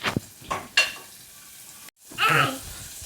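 Onions sizzling in a pan while cooking mushroom biryani, heard as soft frying hiss with a few stirring scrapes and clatters, a brief silent gap, then a louder burst of sizzle near the end.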